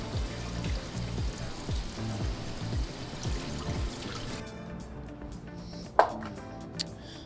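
Water pours and trickles from a sink tap over salted prime rib as it is rinsed, a steady running splash for several seconds that cuts off near the end, followed by a sharp clunk and a faint knock.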